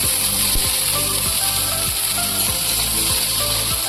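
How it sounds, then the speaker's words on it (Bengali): Onions fry in oil with chopped ginger and garlic for a bottle gourd seed mash, giving a steady, loud sizzle and crackle throughout with faint periodic scraping underneath. "তো পেঁয়াজটা করবো লাল লাল করে ভেজে নেবো"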